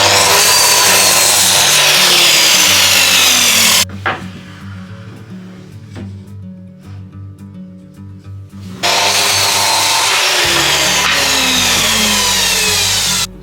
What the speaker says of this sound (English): So then just screwing these on and stacking each one above the rest.